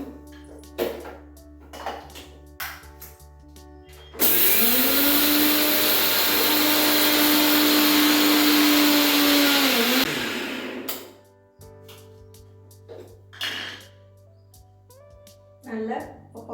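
A mixer grinder roars loud and steady for about six seconds while grinding dry ragi mix into powder, with quiet knocks and handling before and after.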